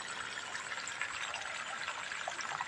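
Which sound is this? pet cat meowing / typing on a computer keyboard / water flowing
water flowing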